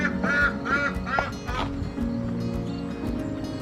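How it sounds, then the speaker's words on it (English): Several ducks quack in a backyard pond area in the city, a run of loud nasal calls close by in the first two seconds, then quieter scattered quacks over steady background noise. "The ducks are out. I can hear them."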